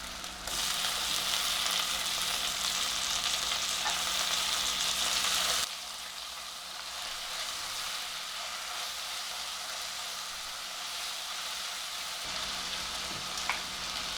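Chopped tomatoes frying in hot oil with ginger-garlic paste for veg biryani give a loud, steady hiss that drops to a quieter, continuous sizzle partway through. No one speaks.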